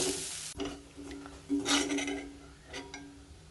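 Grated coconut is roasted in a pan on a low flame for garlic idli podi. A spoon scrapes and stirs it in soft, repeated strokes over a faint steady sizzle.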